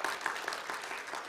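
A church congregation applauds together during a worship service, a steady wash of many hands clapping throughout the short moment with a few sharper claps standing out.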